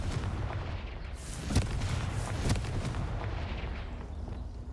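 Confringo explosive spells go off in Hogwarts Legacy, a continuous low rumbling roar with two sharper booming blasts standing out midway.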